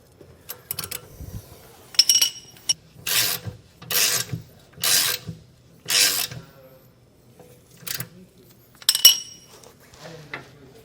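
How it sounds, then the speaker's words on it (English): A wrench snugs a lock nut down on a leaf spring bolt during a Roadmaster Comfort Ride leaf spring kit install, giving a series of short, close metallic ratcheting rasps in separate bursts with brief pauses between them. "I'm going to just gently start snugging this lock nut down"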